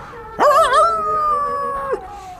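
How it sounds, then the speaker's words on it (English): A dog performing on a television talent show lets out one long, loud, wavering howl, sung in a rising then sustained tone for over a second with no other sound around it. "how else do you get a dog to sing like that?"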